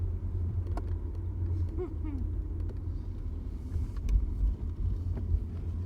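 A 1983 VW Quantum GL5 wagon's engine pulls hard onto a highway, a steady low rumble with road and wind noise throughout, no clear rev peaks standing out.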